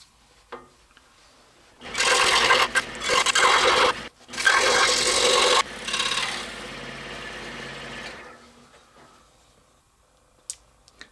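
Sawing through the top profile of a wooden ship-in-a-bottle hull, with steady, close rasping strokes in two main bursts and a softer third pass, then quiet.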